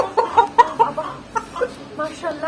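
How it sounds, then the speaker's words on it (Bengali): A very large, tall-combed rooster of a big breed clucks and grunts in short bursts while held up close, with laughter and talk around it. "আমি এত বড় জাতের মোরগ দেখি না"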